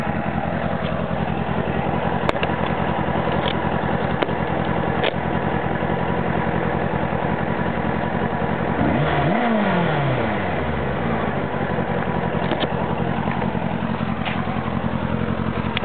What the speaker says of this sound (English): Go around the bike so you can hear the exhaust.